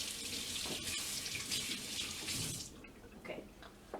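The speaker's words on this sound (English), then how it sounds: "So now you're wetting your hands a little bit more." Tap water runs steadily into a sink while hands are wetted for shaping dough, a close, continuous splashing rush that eases and turns more irregular toward the end.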